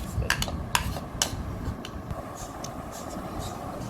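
Custard dessert ingredients being mixed together in a dish, with a few sharp clinks of spoon against dish early on over a steady low rumble, then quieter stirring scrapes.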